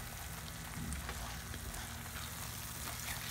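Halwa cooks in ghee in a pan, giving a soft, continuous sizzle close by with faint stirring scrapes.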